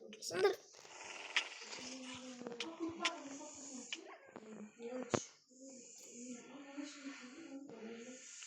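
Dogs growl and whimper in short bursts, fairly close, with people talking over and between the sounds.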